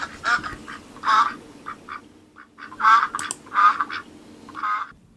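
A duck quacks repeatedly in loud, nasal bursts, close by, with short pauses between groups of quacks.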